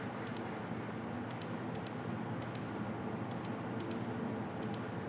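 Computer mouse clicks in quick pairs and short runs, crisp and close, over a steady background hum while counting cells in software.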